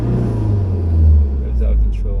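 A camper van engine runs with a loud, deep low rumble that swells briefly, then settles, while people talk faintly over it.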